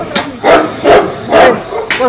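Dogs barking in repeated bursts during a police rescue of stolen dogs held captive in a house in Huancayo, with loud barks roughly every half second over people talking nearby.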